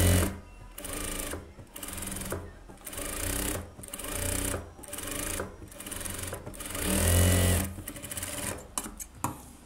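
A sewing machine stitches a silk pattu pavadai with lining fabric in a series of steady, close bursts separated by short pauses, loud and clear with no talking.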